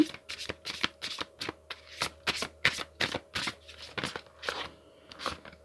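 Oracle cards are shuffled in a steady run of quick, crisp riffling and slapping bursts, close and fairly quiet, with no talking over them.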